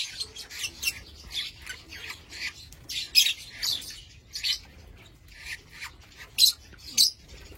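Young lovebird chicks, an Aqua Ewing Blue hen among them, learning to eat millet give a series of thin, scratchy chirps and squawks at irregular intervals, close by and moderately loud, mixed with light rubbing sounds.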